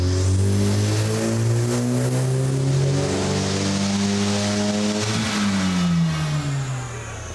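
A four-cylinder engine in an 818C kit car revs hard on a chassis dyno, its loud, steady drone rising and falling in pitch through a full pull before easing off at the end, with no voices.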